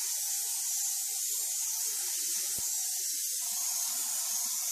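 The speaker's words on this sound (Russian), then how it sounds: "Для обмывания после мойки используем такой вот простой распылитель." An air-driven water sprayer pushes an air and water mist to rinse engine parts after washing, making a steady loud close hiss throughout with one brief knock near the middle.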